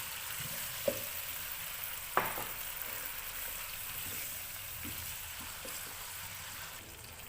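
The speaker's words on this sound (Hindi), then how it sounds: "चिकन डालने के बाद हम इसको 5 मिनट के लिए हाई फ्लेम पे भूनेंगे लहसुन अदरक के साथ।" Chicken cooks in a pan with garlic and ginger over a high flame, giving a soft, continuous sizzle with a couple of faint clinks from stirring. The level stays low throughout and no one speaks.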